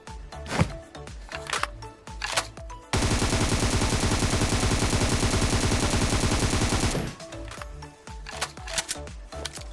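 Rapid automatic gunfire from a Beryl rifle in PUBG Mobile, fired unscoped without a laser attachment: one loud sustained burst of about four seconds, with scattered game sounds before and after.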